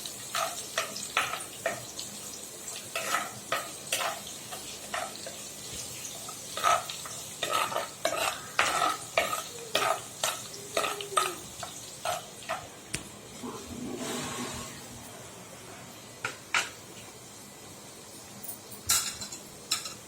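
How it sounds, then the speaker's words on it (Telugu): Ginger pieces fry and get stirred in a pan for rice flour upma, a spoon repeatedly scraping and clinking against the metal in an uneven rhythm over a soft, steady sizzle, up close with no talking. "తర్వాత అల్లం ముక్కలు అన్నీ వేసి కాసేపు వేగనిద్దాం."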